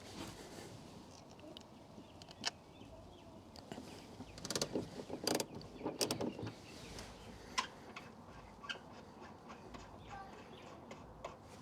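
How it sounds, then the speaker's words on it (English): A 3/8-inch ratchet with a Torx T50 bit undoes the factory seat fasteners in a car. It makes clicking and ratcheting bursts with some metallic clatter, close and fairly quiet, alongside faint background voices. "So with our Torx T50 and 3/8" ratchet,"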